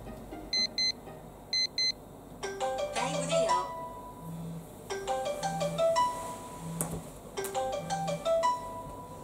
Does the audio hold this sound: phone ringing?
yes